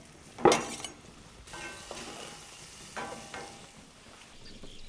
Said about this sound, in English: Add to the pan and stir.